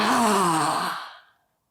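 A loud, open-mouthed yoga lion's breath exhale, a breathy voiced "ah" falling away and fading out over about a second, heard alone.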